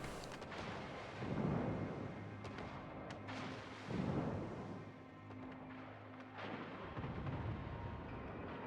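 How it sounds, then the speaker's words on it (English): Naval artillery shells from the battleship Jean Bart in World of Warships land as deep, faint rumbling booms, about three swells spaced a few seconds apart over a steady low hum. "More shells from the Jean Bart, clipping into the Tirpitz"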